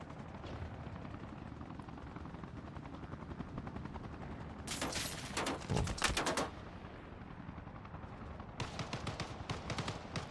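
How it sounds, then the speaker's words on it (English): Gunfire in Arma Reforger: faint, dense rattling bursts of shots over a low rumbling battlefield background, with louder clusters in the middle and at the end. "This person's shooting at us."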